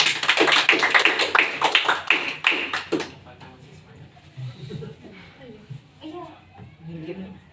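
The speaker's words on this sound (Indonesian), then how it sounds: "Beri aplaus untuk kita semua." A classroom of children applauding loudly together for about three seconds, dense overlapping claps that stop abruptly, followed by quieter children's voices talking.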